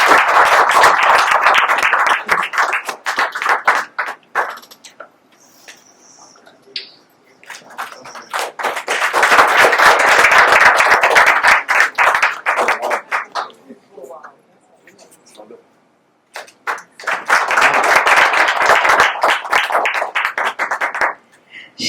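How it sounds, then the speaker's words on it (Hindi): Audience applause welcoming poets one by one at a Vishwa Hindi Diwas poetry gathering at the Indian Consulate in Seattle. The clapping comes in three strong bursts, each lasting several seconds, with brief quieter gaps and a voice between them. "तालियों से स्वागत।"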